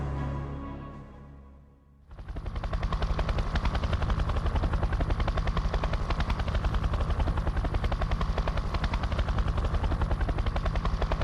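RAF helicopter in flight over the Iraqi desert, rotor blades beating in a fast, steady loud chop with engine whine, rising in from a quieter moment and holding close and continuous throughout.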